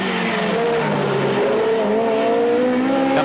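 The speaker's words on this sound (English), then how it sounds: "The GTR showing a good turn of speed here." A Nissan GT-R race car roars past at speed on a circuit during a touring car race, its loud engine note sustained and shifting in pitch with faint tire noise, and no voices over it.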